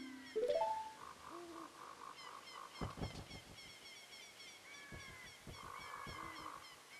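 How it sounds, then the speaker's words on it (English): Synthesized seagull cries from The Legend of Zelda: Ocarina of Time sound as repeated honking calls in short rhythmic bursts, fairly faint, with a rising tone at the start. "Why are there seagulls?"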